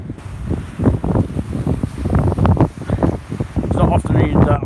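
Wind buffets the microphone in loud, irregular gusts on the Lowestoft shore in January, with sea waves rumbling and washing beneath, and no one speaking.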